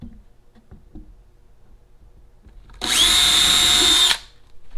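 Power drill boring a pilot hole in wood while fitting a drawer front to Blum Movento soft-close slides, heard as a loud, steady, high-pitched whine lasting about a second after quiet handling clicks.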